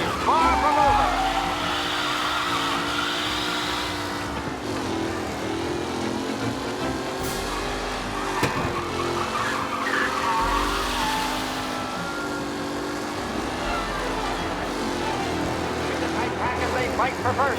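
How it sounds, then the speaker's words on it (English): Race cars in the video game Mafia Definitive Edition roar around the track, engines revving and shifting pitch as they pass nearby, a continuous loud drone with a voice speaking over it. "The race leaders roar into the second lap."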